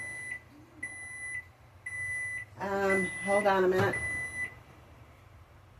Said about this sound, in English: So I set the timer originally for 20 minutes.